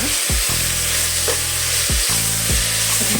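Chopped tomatoes sizzling and frying in a pan for tomato bath, a loud steady hiss with a few spoon stirs and scrapes breaking through, close up and without talk.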